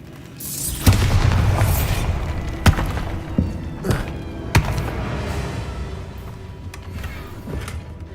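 The Bombarda explosion spell in the video game Hogwarts Legacy goes off as a few deep booms and thuds over a low rumbling game background, each impact sharp and followed by a short decay.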